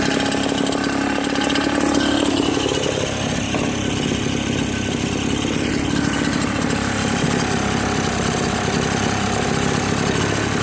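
A Redmax EBZ8050 gas backpack leaf blower with newly installed piston rings runs at a steady, loud idle, its two-stroke engine droning continuously and close up without a pause.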